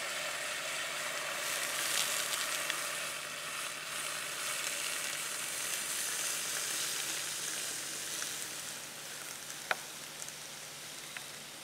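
Liquid nitrogen boiling steadily while it cools a sample in a physics lab, a continuous close bubbling hiss with a few faint clicks and no voices.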